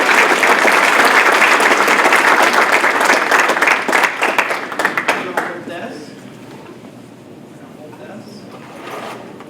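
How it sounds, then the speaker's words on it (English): Audience applause for a student being honored at a school students-of-the-month event: loud, dense clapping that thins into scattered claps after about five seconds and fades out, with faint voices beneath. "Let's give Matthias a big round of applause."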